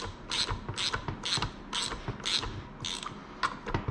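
A wrench or ratchet tightening 10 mm bolts to spread the clutch on a Teryx T2 side-by-side, giving about seven evenly spaced ratcheting clicks, close and moderately loud, with no talk.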